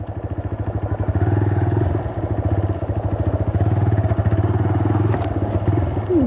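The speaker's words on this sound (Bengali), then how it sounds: "আমরা পাথরের নদীতে অফরোডিং করতেছি" A motorcycle engine thrums close by in a steady, pulsing rhythm as the bike works its way off-road across a rocky riverbed, with occasional clatter.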